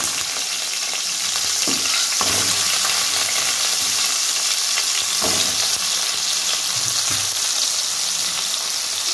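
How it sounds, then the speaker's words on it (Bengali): Potatoes frying in hot oil in a wok, a steady, dense sizzle throughout with a few soft stirring knocks and scrapes on top, no voices. "দেখো কড়াইয়ের তেল গরম হয়ে গেছে, আমি আলুগুলো একটু আগে ভেজে নেবো"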